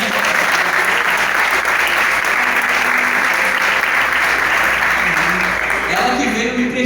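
A church congregation applauds loudly and steadily, a dense wash of clapping that lasts throughout, with voices rising beneath it toward the end.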